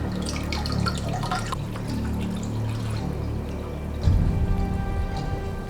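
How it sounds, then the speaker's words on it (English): Water pours and splashes steadily during an aquarium fish tank water change, a continuous trickle with dripping, then a louder gush near the end. "that's the water change complete"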